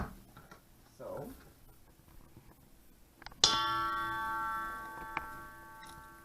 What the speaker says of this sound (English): sounds like a bell.